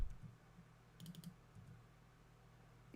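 A computer keyboard gives a quick cluster of soft, faint key clicks as the F8 shortcut is pressed, set against a quiet room hum.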